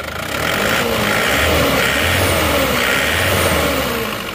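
A car engine revved in a couple of surges, loud and close, rising and falling without any shaking or roughness. The engine is troubled, rattling with a tek-tek sound when cold, and has been repaired before without a full fix.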